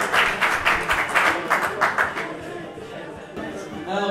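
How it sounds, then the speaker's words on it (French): Hearty applause at a semikha (rabbinic ordination) celebration, a dense burst of many hands clapping that fades to scattered claps after a few seconds. "Applaudissements bien forts."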